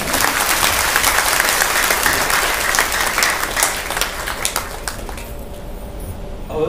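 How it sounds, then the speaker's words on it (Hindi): A seminar audience claps steadily for several seconds, a dense sustained applause that thins and fades out near the end. "लेकिन ताली तो अच्छा सा बजाना पड़ेगा"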